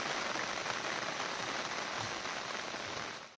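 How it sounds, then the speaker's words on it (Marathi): Heavy monsoon rain in rural Konkan pours down steadily as a dense, even hiss of drops on surfaces, close and loud throughout without a break, then cuts off abruptly at the very end; no one speaks. "भर पावसात भिजत भिजत"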